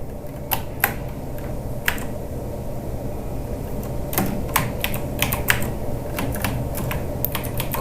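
Typing on a computer keyboard while working in Adobe Illustrator: sparse, crisp key clicks in irregular clusters over a steady low room hum, no voices.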